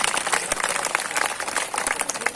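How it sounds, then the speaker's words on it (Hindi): An audience at a religious discourse clapping with hands raised overhead, producing dense, continuous, fairly loud applause for a few seconds. "चलो ताली बजाओ अपने लिए सभी, ऊपर हाथ करके, ऊपर ही हाथ करके ताली बजाओ।"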